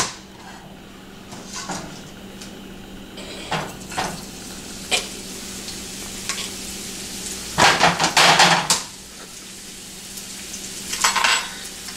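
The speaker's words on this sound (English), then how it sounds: "And now we're gonna add the onions." Onions frying in olive oil in a pan, a steady sizzle under repeated scraping stirs and clinks of utensils against the pan, with a louder burst of sizzling midway and no talk.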